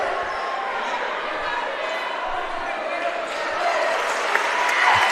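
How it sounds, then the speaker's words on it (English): Dense, sustained applause from a crowd at a high school basketball game, fairly loud and steady, with a faint thump near the end. "Quick round of applause for that young man who will head to the locker room"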